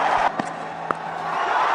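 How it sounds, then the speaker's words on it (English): A cricket stadium crowd roaring during an India versus New Zealand match: a dense, steady wash of cheering fills the whole moment, with a couple of brief sharper shouts or claps poking through. "Excellent atmosphere at the moment. The crowd right into it."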